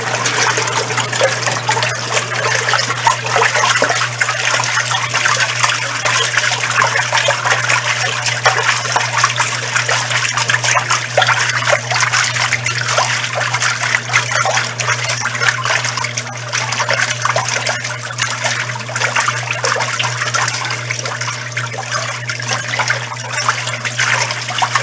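A steady rush of water runs into an Arno Lavete Intense Delicate 10 kg washing machine as liquid soap is added, set to a heavy duvet wash; a constant low hum sits beneath the continuous trickling and splashing.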